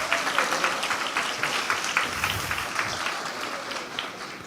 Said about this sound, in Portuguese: Merece palmas